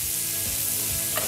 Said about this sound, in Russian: Теперь мы будем деглассировать сковороду вином.